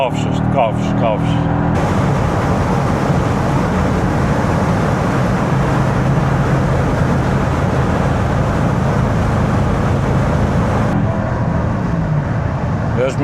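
Steady, loud engine roar of a Mercedes SL55 AMG R230 V8 running close up, holding a constant low rumble for most of the stretch with a brief change in tone at the start.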